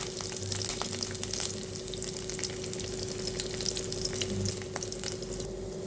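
Chana dal, garlic and curry leaves fry in hot oil for a rasam, giving a steady, close sizzle with light crackles and occasional stirring clinks throughout, with no talking.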